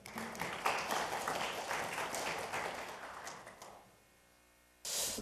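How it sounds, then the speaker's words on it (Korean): Audience applause for a Jeju National University journalism professor taking the stage at a National Assembly policy forum, dense clapping for about four seconds that thins and stops, then a brief loud burst near the end. "박수 부탁드리겠습니다."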